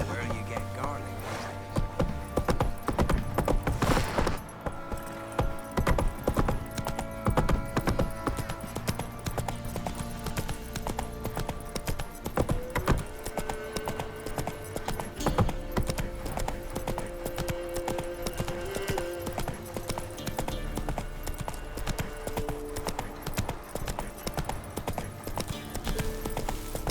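Roach, the horse in The Witcher 3, gallops with a steady stream of clip-clop hoofbeats that runs throughout, set against background music and ambient game sound.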